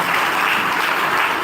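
Church congregation at a thanksgiving Mass clapping together, a dense, loud and steady burst of applause with no pauses.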